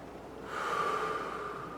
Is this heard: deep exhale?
yes